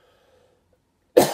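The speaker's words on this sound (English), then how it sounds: "sorry about the coughing" A single sharp cough bursts out near the end after near silence, close and loud.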